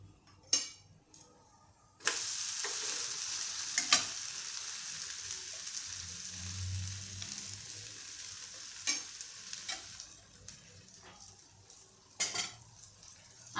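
Cucumber uttapam frying in oil on a pan over low flame, a sudden hiss as the oil hits after a couple of utensil knocks, then a steady moderate sizzle with intermittent scraping and clinks of a spatula.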